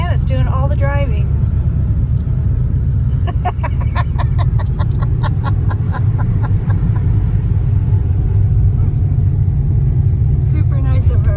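A car is driving along a mountain trailhead road, heard from inside as a loud, steady engine and road rumble that runs the whole time, with people talking over it.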